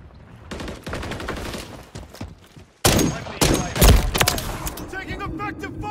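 Gunfire in Modern Warfare III crackles in rapid automatic bursts, cutting out briefly and then resuming louder with heavy overlapping volleys and a deep blast, while game voices call out underneath.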